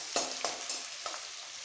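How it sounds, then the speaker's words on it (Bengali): Chopped onions for dhaba-style chicken tarka fry briefly in a pan, making a close, bright sizzle with a few quick stirring scrapes in a short burst; no speech. "খুব বেশি ভাজবো না পেঁয়াজটা"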